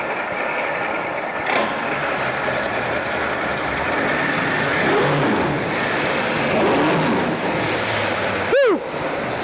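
A 2010 Mercury 150hp two-stroke outboard with a 25-inch shaft runs at idle on winterizing fuel mix, a rough, continuous engine rumble and water wash with wind buffeting, plus a brief sharp tonal chirp near the end.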